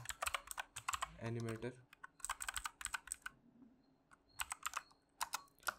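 Code typed on a computer keyboard while scripting a Unity character controller: quick bursts of close, crisp key clicks with short pauses, and a voice briefly speaking in the middle.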